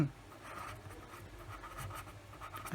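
A pen scratches on a writing surface during a chemistry lesson, a soft continuous scribbling with faint strokes, close and quiet, with no talk.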